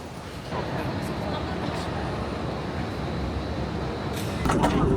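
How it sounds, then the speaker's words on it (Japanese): The automated satellite train at Suvarnabhumi Airport rumbles steadily from inside the car, with a continuous broadband roar and a brief sliding or clunking sound near the end. "はい、サテライトなんで今から列車で移動します。"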